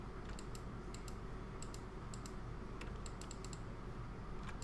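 Sharp mouse clicks while playing modded Minecraft, an Infinity Evolved server, come in small clusters of two or three, close and crisp over a steady low background hum.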